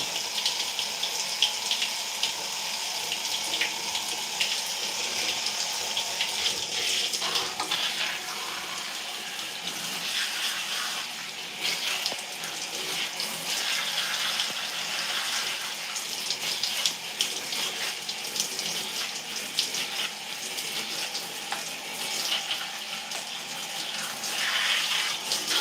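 Water runs steadily from a bathroom tap while hair is rinsed, a continuous close splashing gush whose tone shifts slightly as the stream hits hair and hands, lasting throughout with no talking.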